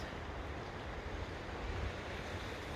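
Sea surf washing steadily on a shore, a continuous broadband roar with gentle swells and some wind buffeting the microphone, no voices.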